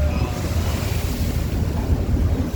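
Very rough ocean waves pound during a boat crossing from Siargao to Surigao, a loud, continuous low roar of surf and water mixed with heavy wind buffeting on the microphone, with no voices.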